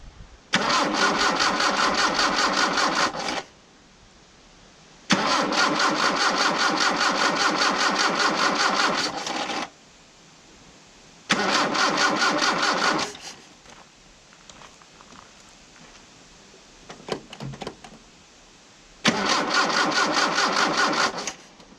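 An old vehicle engine, left unused for 20 years in a paddock, cranks in four loud bursts of a few seconds each, separated by short silences, with a fainter stretch of clicks between the third and fourth attempts.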